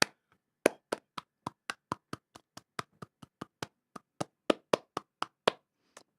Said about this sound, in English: instead of listening to me clapping my hands